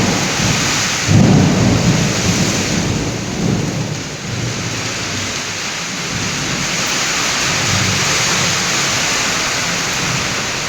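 Rolling thunder rumbles through steady heavy rain with lightning, a louder crack early on before the storm noise evens out into a continuous downpour.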